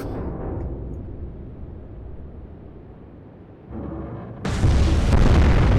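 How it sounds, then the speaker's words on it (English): Torpedo striking a half-sunken ship in Atlantic Fleet: a low rumble swells, then a loud, broad explosion bursts near the end and keeps roaring. "we might as well just fire a torpedo at her and finish her off"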